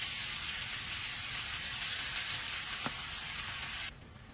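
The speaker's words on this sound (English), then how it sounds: "So we're throwing in our carne and we're just going to let that cook down and get nice and fried up." Marinated carne asada frying in hot oil in a pan, a steady broadband sizzle with soft crackle throughout, close and fairly quiet, cutting down abruptly near the end.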